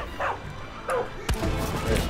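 A dog barks in Far Cry 5, giving a few short yips and barks spaced apart at close range, with a sharp impact sound and game noise partway through.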